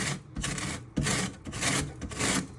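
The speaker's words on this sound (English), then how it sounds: "So you now want to start grating your orange zest, just moving your orange up and down." An orange scraped up and down on a sharp grater to zest it for a Christmas fruitcake, close rasping strokes in a repeating rhythm of about five passes.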